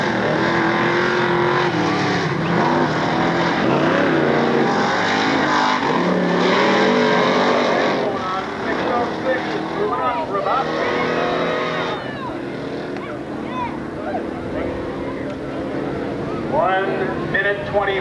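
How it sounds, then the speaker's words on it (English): A Chevrolet El Camino race car engine roars loudly and continuously on a track at a 1996 Class 6 SODA race in Lake Odessa, Michigan, revving and shifting pitch while a loud announcer's voice talks over it. "Once again, driving the Chevrolet El Camino is Leonard Gell of New Berlin, Wisconsin."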